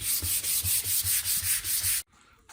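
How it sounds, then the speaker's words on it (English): Rubber surface being hand sanded with 220 grit sandpaper during a mini gold shaker table build: about eleven quick, even back-and-forth rubbing strokes, close and steady, then it abruptly stops. "right now I've got 220 grit, and I'm just taking the shine off the rubber"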